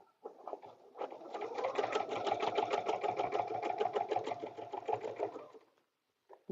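A sewing machine stitches paper piecing for a butterfly dresser scarf, a close rapid needle patter running steadily for about five seconds, starting and stopping cleanly.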